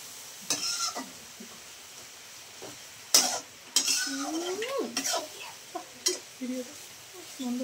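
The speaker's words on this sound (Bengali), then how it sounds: "কিমা চিকেনটা কিন্তু দিয়ে দিলাম কড়াইয়ের মধ্যে।" Marinated minced boneless chicken frying in a wok, with scattered clinks and stirring scrapes of a utensil against the pan over a faint background sizzle, fairly close.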